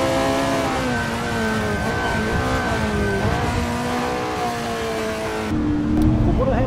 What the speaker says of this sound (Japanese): 加速でぴったりとマークする M3。